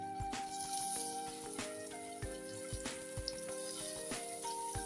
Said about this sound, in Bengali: এখন আমি পুঁটি মাছগুলি হালকা একটু ভেজে নিই, এপিট এপিট করে।